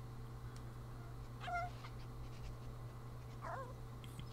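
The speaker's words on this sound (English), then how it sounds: "You killed the cat and claimed its territory." A game cat in Tokyo Jungle gives two short meows about two seconds apart, moderately close over a steady low droning hum from the game's ambience.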